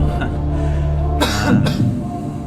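A couple of sharp coughs from a woman in a studio audience ring out over a steady background murmur and hum, close to the listener and fairly loud.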